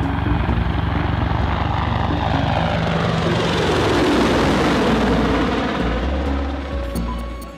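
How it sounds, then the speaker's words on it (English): An Apache helicopter passes overhead above a Baghdad neighborhood, its rotor thudding and engine roaring loudly and steadily before beginning to fade away at the end. "An Apache helicopter flies over a neighborhood in Baghdad."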